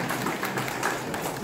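An audience at a literature exchange exhibition ceremony in Busan gives a short, steady round of applause, a dense even patter of clapping heard alone at moderate volume.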